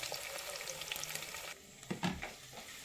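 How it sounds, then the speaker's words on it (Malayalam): Chopped ginger and garlic are stirred in a pan of hot oil, giving a soft, steady sizzle followed by a few louder scrapes of a spoon against the pan, fairly quiet and close. "വെളുത്തുള്ളിയും കൂടി അരിഞ്ഞത് ഇതിൻ്റെ കളർ നമുക്ക് ചെറുതായിട്ടൊന്ന് മാറുന്നവരെ വരെ നമുക്കൊന്ന് ഇളക്കി കൊടുക്കണം"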